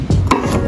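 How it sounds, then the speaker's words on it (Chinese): A knife cuts through ginger on a cutting board in a few quick, close, crisp chops, heard with no talking. "姜切片"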